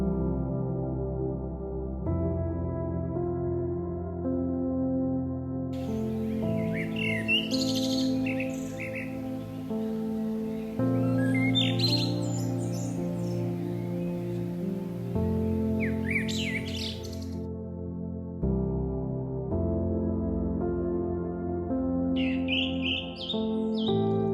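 Réunion cuckoo shrikes calling among tamarind canopies on a volcanic island, brief high chirps and squawks scattered faintly over a loud, steady tonal music bed.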